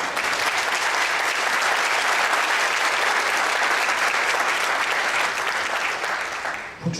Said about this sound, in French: On peut déjà les applaudir.